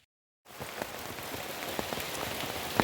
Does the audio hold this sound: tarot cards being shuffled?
no